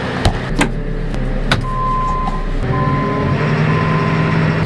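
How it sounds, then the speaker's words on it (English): On a farm, a telehandler's engine rumbles low and steady while a reversing alarm beeps in a regular repeating pattern, alongside a brief clunk and a shift in engine tone partway through. "I need this telehandler to load the tender truck"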